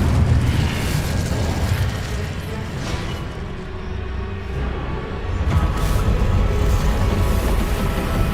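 A fire spell cast in Hogwarts Legacy, a loud, dense burst and rumble of flames and magical impact that fills the clip, easing briefly midway before swelling again.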